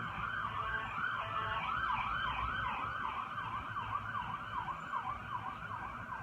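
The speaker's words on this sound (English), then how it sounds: "I think we have a siren coming" An emergency siren wails continuously in a rapid up-and-down pattern, fairly loud and steady over a low traffic rumble.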